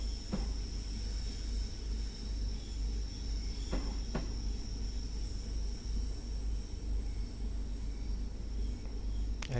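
A Class 314 electric multiple unit, a pair of 3-car units, runs on the Glasgow Cathcart Circle Line in the game Train Sim World 3, giving a steady, loud rolling rumble with a few sharp clicks over the track.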